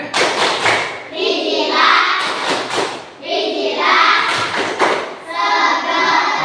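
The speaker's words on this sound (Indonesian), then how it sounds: "kita tepuk es krim dulu" A classroom of children doing the tepuk es krim ice cream clap, loud rhythmic bursts of clapping and thumps mixed with chanting young voices, close and energetic, pausing briefly between rounds.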